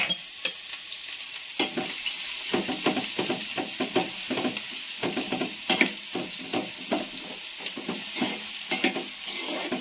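Onions and chillies sautéing in oil in a pan for a Maharashtrian okra dish, a steady close sizzle broken by frequent scraping stirs, with no voices.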